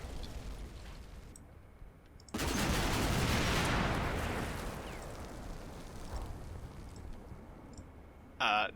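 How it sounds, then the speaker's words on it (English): A BTR fires airburst rounds in Combat Mission: Black Sea, heard as a sudden loud sustained roar of bursting shells that tails off slowly, with faint clicks before it and a short sharp blast at the end. "This BTR is firing airburst rounds at this, what I presume is a scout team."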